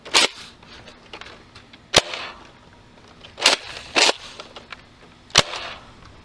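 Nerf Rival blaster firing foam balls outdoors at a target, several sharp snapping shots spaced unevenly, close and loud, with quiet mechanical handling between them.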